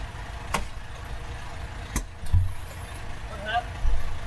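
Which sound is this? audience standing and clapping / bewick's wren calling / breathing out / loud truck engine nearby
loud truck engine nearby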